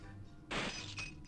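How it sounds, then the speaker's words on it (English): Glass shatters in the Spy Fox 3 game, a single bright crash with a short trailing tinkle, fairly loud against a quiet background. "just breaking glass"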